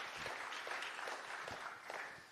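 Quiet audience applause at a talk on belonging and environmental justice, a thin spread of claps with a few louder individual hits, fairly distant and fading toward the end.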